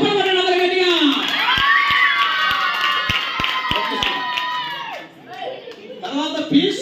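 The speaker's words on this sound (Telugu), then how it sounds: "చప్పట్లు కొట్టండి అందరూ గట్టిగా." Children at a Sunday school gathering cheer and shout together, with a long drawn-out group cry and a short run of claps, then chatter resumes.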